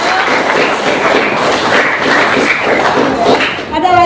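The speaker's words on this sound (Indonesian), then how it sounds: "Tepuk tangan buat Alivia dan Rama." A classroom of students claps for two classmates, Alivia and Rama, a loud, close, dense patter of hands with some thumps, mixed with a few voices, fading near the end.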